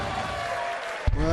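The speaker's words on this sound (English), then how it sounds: "Are we here watching and witnessing and applauding the first maximum of the match?" Crowd at a darts World Championship match applauding a maximum 180, a dense wash of clapping and cheering that swells near the end, with a commentator talking over it.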